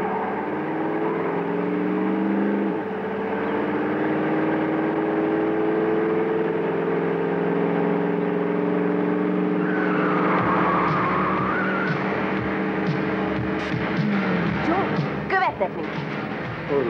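A car engine accelerates hard during a chase scene in the 1987 action film Acélos igazság: a loud, steady revving drone with rising pitch, then skidding and clattering, with tense voices speaking over it.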